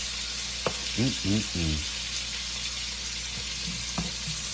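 Bacon and sausage frying in a pan for jambalaya, a steady close sizzle with a few stirring clinks and brief louder pops, no talk.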